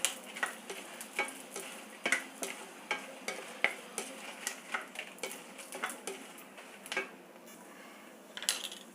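Dried red chillies fry in hot oil, giving a sizzle broken by a steady run of light clicks and taps as they are stirred in the pan, close and fairly quiet.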